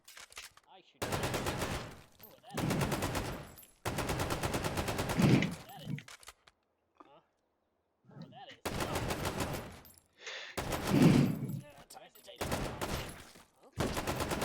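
Enemy gunfire in the VR shooter H3VR sounds as several loud bursts of rapid automatic fire, separated by short pauses and a near-silent gap, ringing out close by with no talking.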